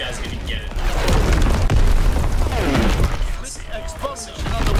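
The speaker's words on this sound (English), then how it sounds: "Explosion on the wing." Explosion in the Call of Duty WWII multiplayer game, a loud booming blast with crashing debris that swells over several seconds, mixed with game radio chatter.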